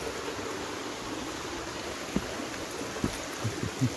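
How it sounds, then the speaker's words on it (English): A small waterfall on a creek along a hiking trail gives a faint, steady rushing hiss of falling water, with a few soft thumps and knocks near the end. "Oh, there's a little waterfall."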